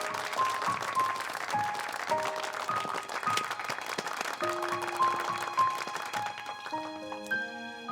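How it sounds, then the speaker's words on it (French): Audience applause at a wedding celebration as a hospital director is invited onto the stage: steady, dense clapping from a crowd fills the whole stretch, with bright musical tones ringing over it. "Applaudissons."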